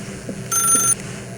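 A telephone in The Stanley Parable video game gives one short, bright electronic ring, clear and close over a quiet background.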